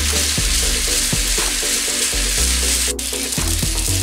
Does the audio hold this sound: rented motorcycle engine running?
no